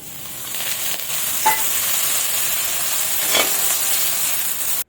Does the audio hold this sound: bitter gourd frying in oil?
yes